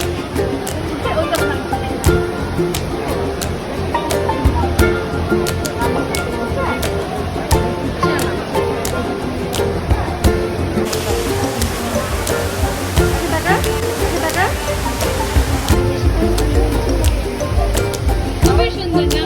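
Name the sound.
flowing water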